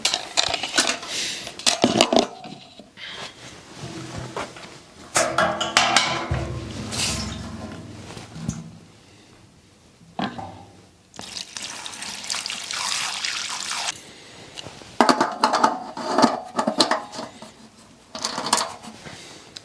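Petrol is poured into a 3.5 kW Maxpeedingrods inverter generator, heard as a liquid gurgle and trickle in uneven bursts with short pauses and clunks of the can, close by and moderately loud.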